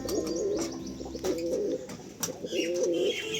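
Domestic pigeons in a home loft coo in low, rolling phrases, several calls close by with soft wing rustles and a few faint chirps, no talking.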